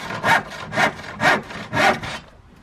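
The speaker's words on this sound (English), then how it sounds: "Saw solo." A hand saw rasps through wood in four steady back-and-forth strokes, close and fairly loud, then stops.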